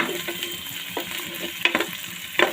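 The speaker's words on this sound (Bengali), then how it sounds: "তার জন্য পেঁয়াজ আর মরিচটা ভেজে নিচ্ছি" Onions and chillies frying in a pan for bhuna khichuri, a close steady sizzle with a few sharp stirring scrapes and clatters, no talk.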